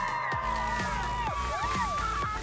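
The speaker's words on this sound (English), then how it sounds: "he's even got a cheer squad waiting at the finish line" A cheer squad cheers on a small child riding into the finish line at a kids' bike track, a loud, dense burst of excited shouts and whoops from several voices close by.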